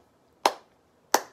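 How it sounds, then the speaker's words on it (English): Two sharp hand claps sound close by in a quiet room, spaced well apart, each a single crisp strike that decays quickly. "We can actually use the sound that we make with our bodies, such as clapping."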